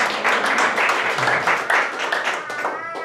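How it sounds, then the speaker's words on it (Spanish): A church congregation claps in rhythm, many hands striking together in a fairly steady beat that is close and lively, with voices mixed in among the claps. "Dele palmas al Señor."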